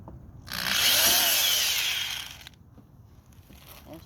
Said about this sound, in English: I'm going to drill right there.